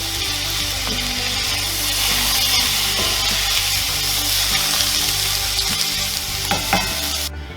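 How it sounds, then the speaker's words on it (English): Onions, zucchini and other home-grown vegetables fry in a pan for spaghetti sauce, a loud continuous sizzle with scraping strokes and a few knocks from a spoon stirring the pan, ending abruptly. "we're going to cook until our onions become translucent"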